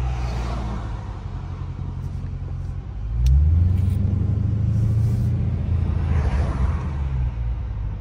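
A 2023 Dodge Scat Pack with a Hemi V8 idles with a low rumble, then revs sharply around the midpoint and holds a loud, deep growl, close by, with no talking.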